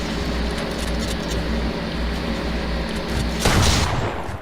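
Gunfire in Fortnite, a sustained dense roar of shots with a louder, sharper burst near the end, loud and close, with no talk over it.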